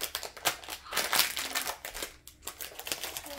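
Thin plastic bag crinkling and rustling in repeated bursts close by while a cat-themed mystery toy pack is opened, with no talk.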